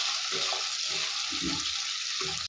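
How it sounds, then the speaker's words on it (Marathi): Flat bean pods frying in hot oil in a pan, a steady, close hiss of sizzling with soft, irregular thumps from stirring underneath. "आपण ही जरा तेलात फ्राय करून घेणार आहोत"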